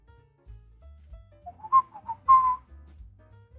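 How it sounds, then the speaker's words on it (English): A person whistles into a microphone, a short run of thin, wavering notes rising in bursts over faint low background hum, close and mostly alone. "Whistled into my mic."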